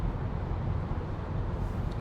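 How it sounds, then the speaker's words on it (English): Low, steady rumbling road noise from a Tesla Model 3 driving through a tunnel, a dull continuous roar with no voices. "Sorry about the noise, I'm driving through a tunnel."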